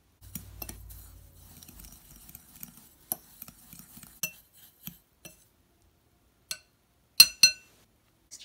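Bath salts are stirred in a glass jar, scattered clinks and scraping taps of a utensil against glass, sparse and quiet with gaps of near silence.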